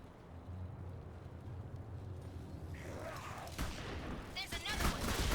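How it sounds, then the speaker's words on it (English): Minigun fire in the shooter game Clive Barker's Jericho, a dense rattling burst that builds in the second half, loud and close over a low game rumble, with a voice talking partway through. "he's got a big minigun, so it's just easy to lay down a lot of fire"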